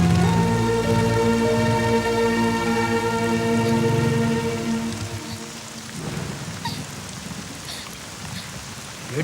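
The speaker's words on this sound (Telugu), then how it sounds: "వర్షం పడుతుంది" Steady rain falls with a constant hiss and patter, partly under sustained musical tones that fade after a few seconds, leaving the rain more exposed.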